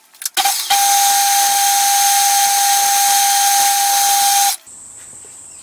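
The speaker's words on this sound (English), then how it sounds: "We'll try running the 3/32." A 3/32 inch reamer runs through the steam chest of a Stuart Turner No. 8 mill engine, giving a loud, steady, high-pitched whine for about four seconds before cutting off abruptly to a quieter hum.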